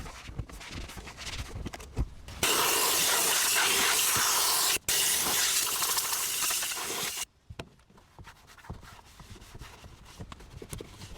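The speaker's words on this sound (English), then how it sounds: "I've been playing around with the aerosol can just to see where I can and can't use it." An aerosol can sprays cleaner onto the seat rails of a heavily neglected car's cloth interior. A loud, harsh hiss lasts about five seconds with a brief break in the middle, between quieter shuffling handling noises.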